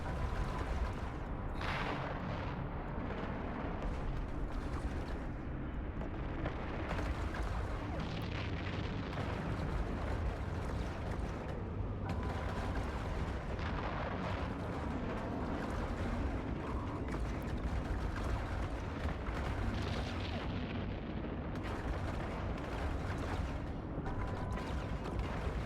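Spaceship weapons in EVE Online firing at an enemy during PvE combat, a continuous dense roar of booming blasts and rumbling impacts with no pauses.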